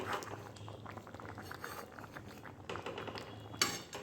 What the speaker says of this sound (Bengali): এটা ফুটছে খুব সুন্দর এটা সেদ্ধ হয়ে গেছে